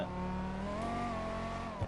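A front-engined car revs in a video game, its engine holding a steady, fairly loud drone that wavers slightly in pitch through a short stretch.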